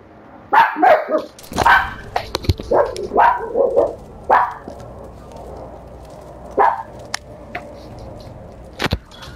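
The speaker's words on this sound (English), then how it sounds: "Sorry if you guys heard that barking." Pet dogs at home bark in a burst of several loud, close barks, then a few more spaced barks trail off amid quieter room sounds.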